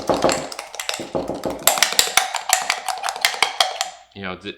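A sourdough starter is stirred aggressively in a container, giving rapid, regular clinking and tapping strikes that are close and bright, with a brief voice near the end.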